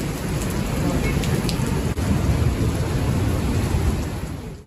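Heavy, dense pelting of hail or hard rain roars continuously and loudly, with a faint rumble of thunder underneath.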